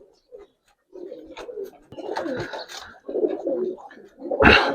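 Giribaz chila pigeons coo up close in a series of soft, throaty calls. Short pauses separate the calls, and the calls build toward a louder burst at the end.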